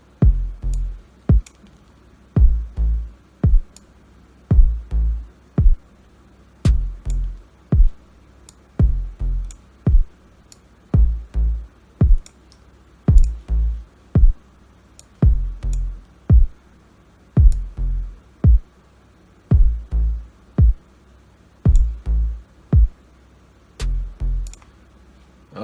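A hip hop beat plays back with thin, weak kick drum hits in a steady repeating pattern of sharp percussive hits and little low-end punch, with no voices.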